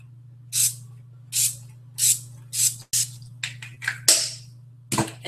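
Makeup setting spray mists out of its bottle in a series of short hissing spritzes, about eight quick bursts in uneven succession, close and fairly quiet.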